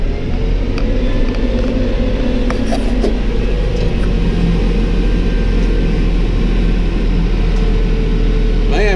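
Massey tractor engine labouring in low gear up a steep hill while mowing, a steady loud droning rumble held close with small clanks and knocks over it throughout.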